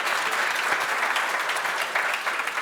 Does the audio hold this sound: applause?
yes